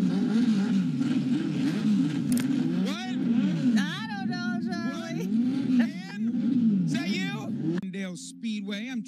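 Small Bandolero race cars at a Winter Nationals speedway in Auburndale, Florida, rev their engines in a continuous, loud buzzing drone that rises and falls, with people talking over it.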